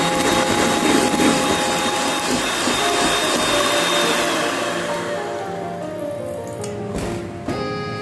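An electric mixer whirs loudly and steadily while beating a vegan marshmallow mixture, its pitch shifting slightly as the thickening mix is whipped, then easing off near the end.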